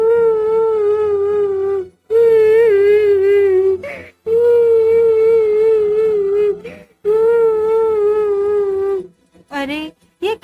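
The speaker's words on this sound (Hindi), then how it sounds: "अरे, ये किसके रोने की आवाज है?" A woman in a Hindi fairy-tale cartoon cries loudly in long, wavering wails, three sustained sobbing phrases separated by short breaths and sharp gasps.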